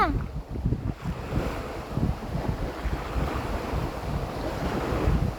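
Ocean surf washes and churns steadily, with waves breaking one after another under gusty wind rumbling against the microphone.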